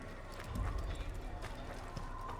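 Horse hooves gallop in a quick, steady clip-clop rhythm, moderately loud, during a ride in the Assassin's Creed video game on PS3, with faint game ambience behind.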